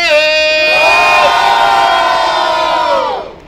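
A large crowd at the final of a street rap battle, Batalha da Leste in Itaquera, roars and cheers loudly and steadily for about three seconds before the noise fades away.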